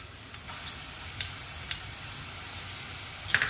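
Onions with ginger-garlic paste frying in a pan, a steady low sizzle with a few faint clicks of stirring, fairly quiet and with no talk.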